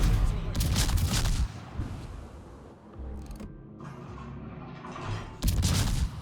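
Armor-piercing shells fire from warship guns in a naval battle game, heavy booming salvos with rumbling mechanical noise, loud bursts at the start and end separated by a quieter stretch.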